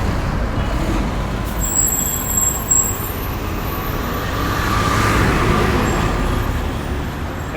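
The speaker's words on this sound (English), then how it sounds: "Right now, the GDF vehicle." Street traffic on Safon Street in Georgetown near Lapenitence market as a Ghana Defence Force military vehicle passes, a heavy rumbling roar rising and swelling mid-way, with a brief hiss like an air brake.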